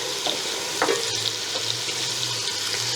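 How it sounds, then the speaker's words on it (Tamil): Green chillies and onions sauté in a pan for vegetable biryani, giving a steady sizzle and crackle with a few scraping stirs, close up and fairly quiet. "வெங்காயம் வந்து நல்லா வதங்கட்டும்."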